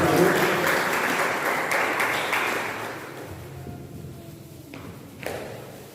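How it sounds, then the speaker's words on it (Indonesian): Church congregation applauding in praise during a Sunday morning service, a dense wash of clapping that thins and fades after about three seconds, followed by quieter room noise with a few scattered claps and a soft thump. "berikan tepuk tangan buat Tuhan Yesus"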